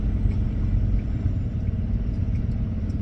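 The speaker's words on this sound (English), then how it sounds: "So there's a K&B truck right now, pulling it up." A K&B truck pulls up at a truck scale with a steady, deep diesel engine rumble close by and no talking.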